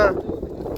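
Wind on the Parvathamma hilltop buffets the microphone with a low, blustery rumble across the short moment, and a voice is heard briefly at the start.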